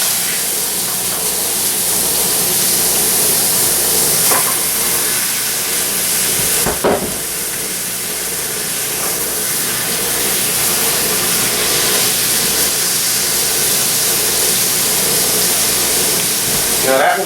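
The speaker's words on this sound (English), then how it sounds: "Introducing the meat to it, we're going to keep it on for at least a minute on each side" A steak sears in a hot pan, making a loud, continuous hiss and sizzle that fills the whole stretch with little change and a brief dip partway through.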